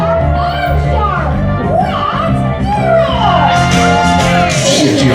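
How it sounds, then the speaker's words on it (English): A group of young children shouting and cheering with whoops, joined by rhythmic clapping and stamping over a sung children's action song, loud and lively throughout. "Now we're going to clap, stamp, and shout."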